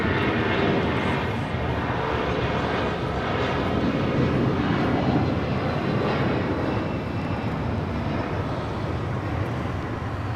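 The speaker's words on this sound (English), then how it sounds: "United 757 rolling it down to 25 right" United Boeing 757 jet rolling down runway 25 right for takeoff, a loud broad sustained engine roar heard steadily from a distance with no talk over it.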